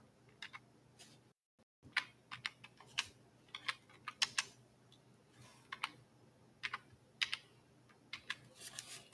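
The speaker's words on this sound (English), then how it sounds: "I'm gonna type up yoke of iron." Someone types the words "yoke of iron" on a computer keyboard: quiet, close, irregular clicking key strikes in short bursts with a brief pause near the start, and no speech.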